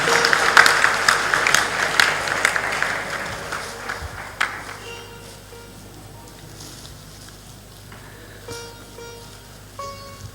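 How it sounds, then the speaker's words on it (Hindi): Loud applause from an audience at a spiritual discourse, dense clapping filling the first four seconds, then thinning into scattered claps that fade under background noise. "जोरदार ताली बजा दो।"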